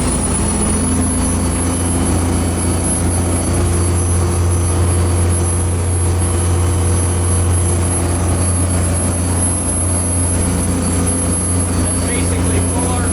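A boat engine drones steadily at near full RPM during an offshore sea trial at about 15 knots, a loud continuous low roar with a constant hum and no breaks.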